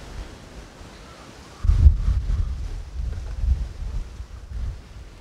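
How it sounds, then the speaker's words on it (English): Wind buffets the microphone outdoors in low, rumbling gusts that start suddenly and keep surging and fading. "A little bit windy today."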